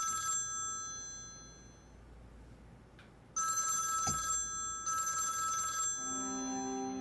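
A phone rings with an incoming call, a loud electronic ringtone in repeated bursts with pauses between, close and alone without talk.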